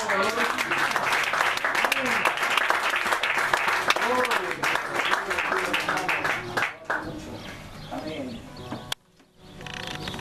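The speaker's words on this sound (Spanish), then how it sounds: "Con un aplauso al Señor" A congregation at a church dedication in Lanco applauds, a dense clapping wash mixed with overlapping voices and cheers; it thins midway, a sudden sharp click and brief dropout follow, then murmuring resumes.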